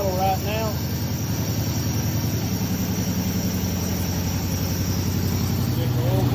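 Street car engine with a Firetech fuel system holding a steady high idle, a continuous loud rumble with a harmonic drone that runs unbroken throughout.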